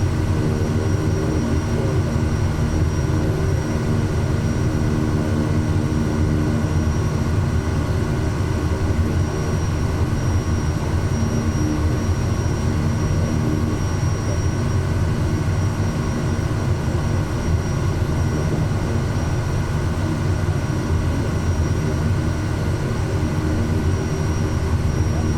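SWS Kodiak 100 single-engine turboprop in MSFS 2024, a steady loud propeller and engine drone with constant low rumble and a faint high whine, unbroken throughout.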